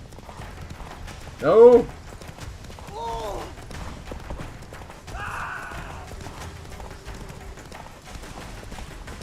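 Roach, a horse in The Witcher 3, gallops with steady rapid clip-clop hoofbeats throughout, close and moderately loud, with a loud whinny near the start, under a voice.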